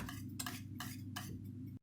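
A spoon scrapes and clinks around a pot of pudding in a few quick strokes, over a steady low hum, close by.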